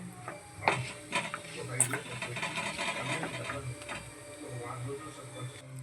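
Oil crackles and sizzles steadily with small pops as mustard and cumin seeds fry, while a voice talks over the cooking throughout.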